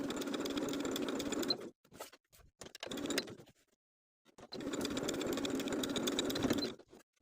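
A sewing machine runs edge stitching along a fold in fabric for a ruffle-sleeve top, rapid mechanical chatter in two long bursts with short stop-start stitches between, close and fairly quiet.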